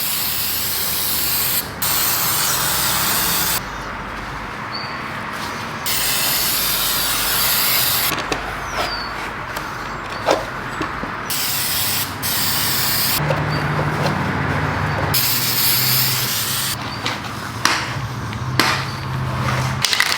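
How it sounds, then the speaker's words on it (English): Aerosol can of prep spray hissing onto sanded plastic truck parts in a series of long bursts separated by brief pauses, close and loud, with faint clicks and handling sounds between. "we're gonna hit it with some prep spray."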